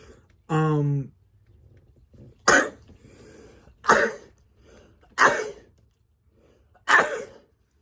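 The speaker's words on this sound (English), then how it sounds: "I gotta sneeze." A short vocal sound, then four sharp, explosive bursts spaced about a second and a half apart, like sneezes or coughs, close up.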